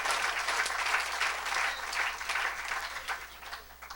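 A church gathering's audience breaks into steady applause, a dense, continuous clatter of many hands at moderate distance, rising and falling slightly over a few seconds with no talking over it.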